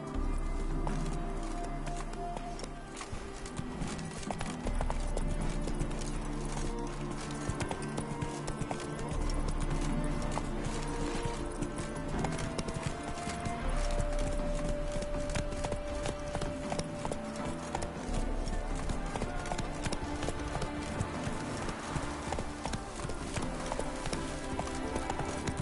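Roach the horse gallops in The Witcher 3 on PS5, with steady rhythmic hoofbeats running throughout over game music and ambient sound.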